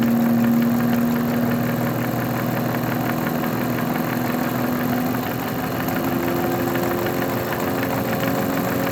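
An Olds 4-4-2 W-30 distributor spinning on a Sun test machine as it is run up to about 450 RPM, a steady, loud mechanical hum and drone with a sustained tonal whine and no pauses, alone without talking.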